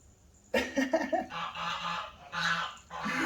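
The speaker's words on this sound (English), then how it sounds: "Kiki, one of the geese just chased her." Geese honk loudly and repeatedly nearby, a flurry of harsh, nasal calls overlapping in quick succession.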